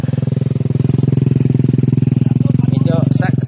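A motorcycle engine runs steadily up close, a loud, even low drone with a fast pulsing throb throughout, and a brief voice comes in near the end.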